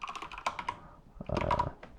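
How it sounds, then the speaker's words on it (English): Close typing on a computer keyboard, two quick bursts of rapid clicky keystrokes separated by a brief pause, with no voices. "Now you notice as I was typing"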